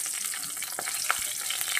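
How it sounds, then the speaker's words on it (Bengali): Black cumin seeds and green chillies sizzling in leftover oil from frying fish, a bright continuous crackle with small pops, close up and without talking. "এদিকে ওই মাছ ভাজা তেলে আমি দিয়ে দেব কিছুটা কালো জিরে ফোড়ন"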